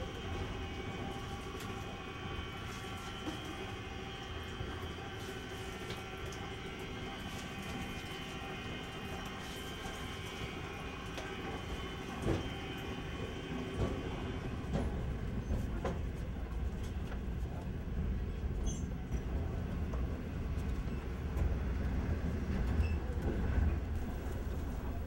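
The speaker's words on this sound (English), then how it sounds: "We were getting off the train at about 7:30" A passenger train riding the rails in China, heard as a continuous rumbling interior drone with faint clattering and a gradual swell in low rumble toward the end.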